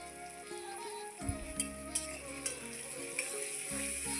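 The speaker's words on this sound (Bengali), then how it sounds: "ভালো করে নেড়ে চেড়ে নিচ্ছি।" Onions with salt and turmeric stirred while frying in a pan, a steady sizzle with a few soft scraping strokes of the spoon, close by and without talk.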